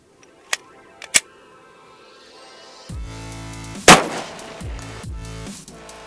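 A 10mm Glock pistol fires at an outdoor range, a few sharp, separated shots ringing out, the loudest one near the middle, with quieter clatter and rumble between them.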